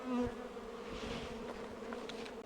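Honeybees fanning at the entrance of a newly installed observation hive on a sunny day, producing a steady, close buzzing hum without talk.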